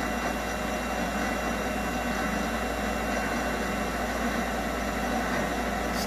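A lathe or grinder runs at around 500 revs, shaping a rubber prosthetic foot suspension: a faint, steady machine hum and hiss with no breaks or cutting bursts.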